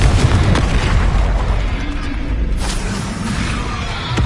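A Confringo spell explosion in Hogwarts Legacy, a loud booming burst with sustained rumbling blasts over heavy continuous noise.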